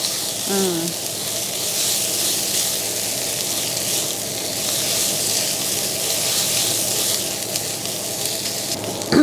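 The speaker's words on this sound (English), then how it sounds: "You fry until you smell of the paste." Thai curry paste for Kua Kling frying in a dry pan on a stove, giving a steady broadband sizzle with a brief voice at the start.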